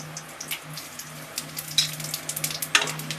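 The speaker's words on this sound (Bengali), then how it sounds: "তিনটে শুকনো লঙ্কা দিলাম" Dried red chillies and five-spice seeds frying in hot oil, a close, crackling sizzle with sharp little pops spattering throughout.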